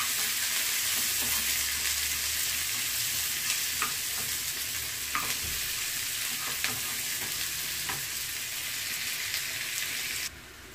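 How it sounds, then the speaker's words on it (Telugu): Onions, shallots and dried red chillies fry in hot oil with a steady, loud sizzle, punctuated by a few soft scraping stirs of a spoon in the pan, with no voices. "ఉల్లిపాయలు చిన్నపాయలు ఎండుమిరపకాయలు వేసేసుకుంటున్నాను మొత్తం ఒకేసారి ఇది కొంచెం వేయించుకుందాం గోల్డెన్ బ్రౌన్ వచ్చిన దాకా"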